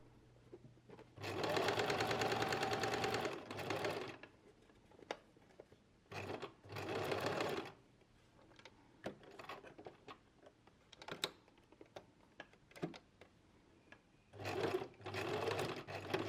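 A sewing machine stitches the full side seam of a garment with an inseam pocket, running in several loud bursts separated by short pauses, the longest run near the start and another toward the end.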